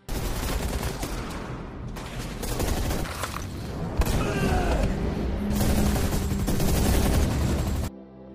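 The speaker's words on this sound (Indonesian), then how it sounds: "tiba-tiba adu tembak pun terjadi" Gunfight from the 2018 Turkish special forces film Wolf: loud, dense bursts of rapid gunfire and booming shots roll on almost continuously for several seconds before cutting off abruptly.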